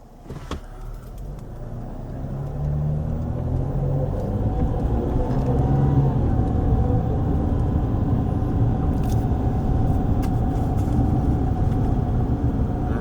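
A car drives along town streets in Aliquippa, Pennsylvania, heard from inside as a steady low engine and road rumble that swells in the first seconds and then holds evenly, with no talking.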